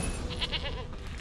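A goat bleats in The Witcher 3, a few short nasal cries close by over steady game ambience, with no talk.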